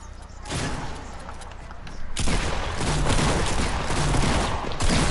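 Fortnite gunfire in a battle royale match: sustained bursts of rifle shots that grow denser and louder partway through, close and busy with thuds and impacts.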